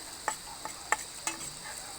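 Garlic frying outdoors at a riverside picnic gives a steady crackling sizzle, broken by a few sharp spatter and utensil clicks, heard up close with no voices.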